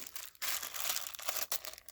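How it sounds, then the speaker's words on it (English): A plastic bag full of airsoft BBs crinkles and crackles steadily at close range while tape on it is picked and pulled, with sharper rustling bursts near the start and end. "There's a piece of tape on this plastic bag, and it just does not want to come off."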